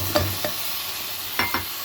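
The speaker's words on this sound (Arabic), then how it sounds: "وارجع هنا ادي تقليبه للسان العصفور بتاعي" Toasted vermicelli and washed rice scraped and stirred in a pot with a spoon, a few short separate scrapes with gaps between them, close and moderately loud, over a faint sizzle.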